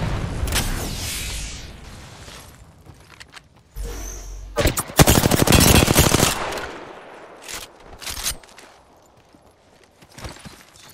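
Gunfire in Apex Legends, with close automatic bursts and single shots through the middle of the firefight, loud and dense, fading to sparse impacts and clatter later, with no talking.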